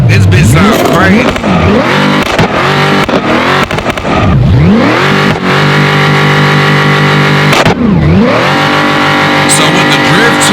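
A Dodge Charger mod in BeamNG revs hard and loudly while drifting, its engine pitch repeatedly climbing then dropping sharply in rhythmic surges, harsh and close throughout.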